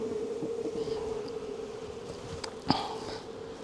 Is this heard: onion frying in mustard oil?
no